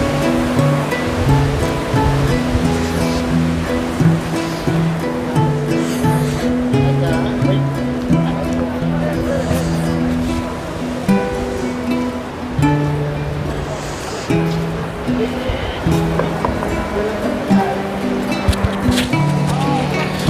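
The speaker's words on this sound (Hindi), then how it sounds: "तो जो ये पानी की धारा है ये काफ़ी तेज है" Fast-flowing Ganges river water rushes past the steps at Har Ki Pauri in Haridwar during the 2021 Kumbh Mela, a loud, steady roar with a continuous tonal hum and distant voices of the crowd mixed in.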